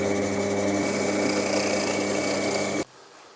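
Power saw making a second cut through a piece of wood while building a simple vice: a loud, steady whining cut lasting under three seconds, then stopping abruptly and leaving a quiet room.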